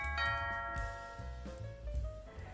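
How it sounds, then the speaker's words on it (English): A two-tone doorbell chime rings out, followed by a second ringing tone that lingers and fades, clear and close. "Just then, the doorbell rings."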